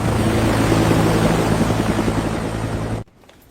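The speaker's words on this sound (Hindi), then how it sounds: "मैडम, हेलीकॉप्टर उड़ान भरने ही वाला है।" A helicopter on the ground just before takeoff, its rotor and engine droning loud and steady with a rhythmic beat for about three seconds before cutting off abruptly.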